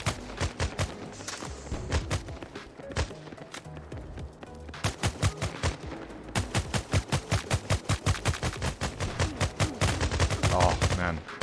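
Gunfire in the WarFi first-person shooter: rapid, evenly spaced bursts of automatic shots come close and loud, pausing briefly before longer sustained strings of fire.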